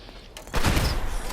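A Gauss gun in the Fallout video game fires a single sharp, loud blast that bursts in after a short quiet lead-in and leaves a rough, sustained crackling roar trailing behind it.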